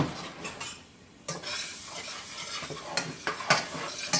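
Browned bits are scraped off the bottom of a pan while food fries in butter, with soft sizzling under repeated scrapes and clinks of a utensil against the pan, close and fairly quiet, no voices.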